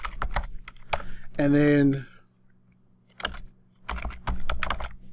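Computer keyboard typing while building a page in Google Sites, bursts of close clicks around a brief spoken phrase.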